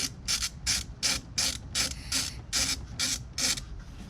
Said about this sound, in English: Try to remember how they were torqued and just torque them back the same way.